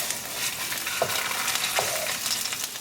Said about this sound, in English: Cook our garlic ginger paste for like 10 seconds.